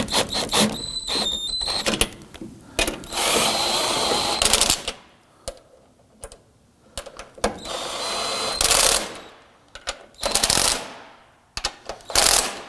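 Ratchet tightening the upper strut mount nuts on a 2005-2009 Subaru Legacy front strut assembly, heard as repeated bursts of rapid clicking separated by short pauses.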